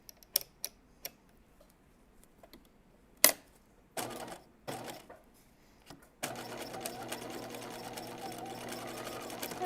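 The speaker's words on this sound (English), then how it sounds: "I'm just going to turn it in and stitch it once" Sewing machine stitching a turned-in hem on a pair of jeans: a few isolated clicks and thumps at first, then short bursts of motor whirring, settling into a steady, close continuous run of rapid stitching to the end.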